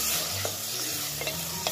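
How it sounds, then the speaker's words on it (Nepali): Rice fries and is stirred in a pan while making kheer, with a continuous soft sizzle and scraping stirs, close up and with no talking. "चामललाई पनि हामीले 1 मिनटसम्म मजाले भुट्नुपर्छ।"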